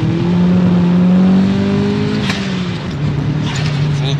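Turbocharged car running a Megasquirt MS3X controller launches at full boost, its engine droning loud and steady near the microphone, with a brief rise in pitch before settling into a lower hum.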